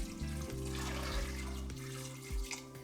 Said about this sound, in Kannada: ಚೆನ್ನಾಗಿ ನೀರು ಹಾಕ್ಕೊಂಡು